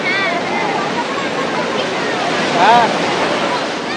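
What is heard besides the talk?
sea waves at Puri beach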